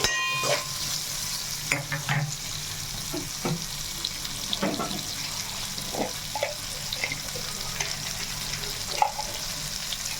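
Chicken masala spices fry in a kadai while a spoon stirs, a steady sizzle broken by scrapes and knocks against the pan, with a faint rush of water in the background.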